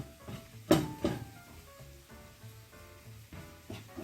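Garlic sizzling gently in a pan over low heat, a soft steady crackle with a few louder pops and clinks of a utensil against the pan.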